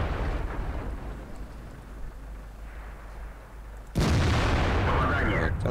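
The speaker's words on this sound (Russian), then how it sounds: "хумель выстрелил, у нас есть несколько секунд" In the World of Tanks game, a Hummel self-propelled artillery gun fires. A sudden loud, deep boom with a long rumbling tail cuts in near the end, after a few seconds of quieter battle ambience.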